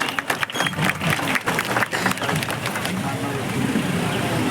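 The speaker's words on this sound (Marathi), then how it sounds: "उपस्थितांना विनंती करतो जोरदार टाळ्या वाजवायच्या आपल्या पाहुण्यांसाठी" An audience claps for guests at a Ganesh festival bus service event in Konkan, a dense burst of close applause that thins into a continuous crowd murmur.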